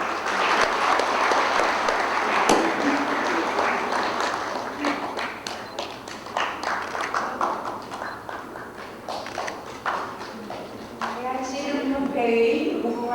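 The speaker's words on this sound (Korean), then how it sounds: "힘찬 박수, 한 번 더 힘찬 박수 부탁드립니다." Sustained, loud applause from a large audience fills a hall at the inauguration ceremony of the 34th president of the Korea Ssireum Association, with brisk claps and occasional sharp thumps rolling on throughout.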